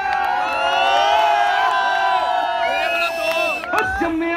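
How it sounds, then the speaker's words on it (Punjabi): A big outdoor concert crowd at a Punjabi music night in Nawanshahr cheers and whoops loudly, sustained and near with shouting voices layered over a continuous roar. "ਨਵੇਂ ਸ਼ਹਿਰ ਵਾਲੇ ਤਾੜੀਆਂ ਲਾ ਦਿਓ ਵੀ ਇੱਕ ਵਾਰੀ"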